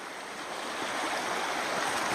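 A river runs steadily in a calm, warm setting near Cleveland, Georgia, a continuous broadband rush of flowing water that holds a constant level throughout, with no voices.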